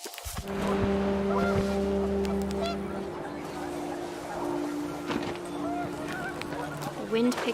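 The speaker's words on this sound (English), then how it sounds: "The wind picked up, and panicked geese appeared and quickly went." Panicked geese honk in a windy outdoor setting: a long, loud, sustained honk opens the scene, followed by scattered shorter honks and calls further off over rustling background noise.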